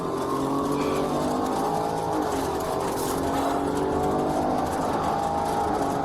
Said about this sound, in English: Tires blown. He's on metal.